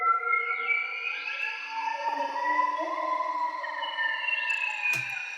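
A synth atmosphere preset called Lost Souls plays eerie, gliding sustained tones washed in its own delay and reverb, a steady spooky pad with a brief sharp blip near the end and no voices.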